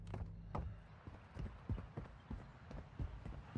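Footsteps of an approaching enemy in Warzone Mobile, a run of fairly close, hard thudding steps at an uneven pace over low background game noise.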